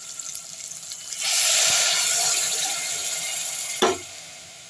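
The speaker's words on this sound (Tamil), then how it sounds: "ஒரு டம்ளர் தண்ணி ஊற்றிப்போம்" Water pours into a hot pan while cooking green gram and spinach rice, with a sudden hissing sizzle that settles into a steady bubbling, ending with a short clatter.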